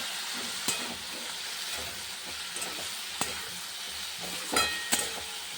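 Potatoes and onions with salt and turmeric fry in a pan with a constant hiss and sizzle, and a spoon scrapes and taps against it every second or two.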